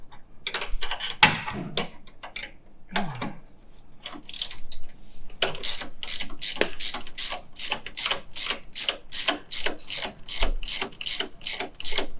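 Rapid, steady ratchet clicks from a hand wrench tightening Old Man Emu 3-inch lift kit bolts on a Toyota Tacoma, close and loud in repeated bursts, with a few clanks of tools and parts near the start.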